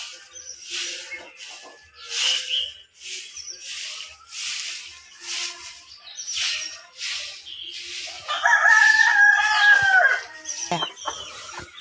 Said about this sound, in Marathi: या आहेत कोंबड्या